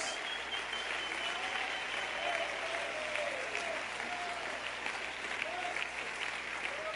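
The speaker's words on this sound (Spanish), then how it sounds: "Dale un aplauso al Señor si usted cree eso" A church congregation applauds steadily throughout, a dense, moderately distant wash of clapping with faint voices underneath.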